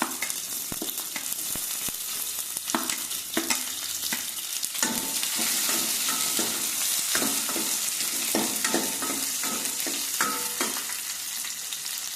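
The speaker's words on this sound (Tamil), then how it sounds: "திராட்சை முந்திரி நெய்யில் வறுத்து" Raisins and cashews fry in hot ghee for a village-style coconut milk payasam, making a continuous close sizzle broken by frequent clicks and scrapes of a spoon stirring the pan.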